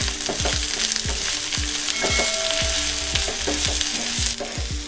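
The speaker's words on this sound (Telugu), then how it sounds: "బ్రౌన్ కలర్ వచ్చే వరకు వేయించుకుందాం" Ginger garlic paste and onions sizzle steadily in a pan, loud and close, with repeated scraping stirs at a quick irregular rhythm and no talking.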